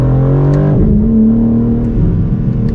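A BMW M4 CSL pulls hard in second gear, its engine note climbing in a loud, close, rising drone that dips briefly at a shift and then builds again.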